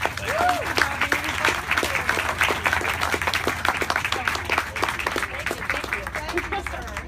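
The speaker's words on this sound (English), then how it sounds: "let's have one more round of applause for our speakers" A crowd at an evening talk at a river center applauds its speakers, with crisp, close clapping running throughout while a voice talks over the start.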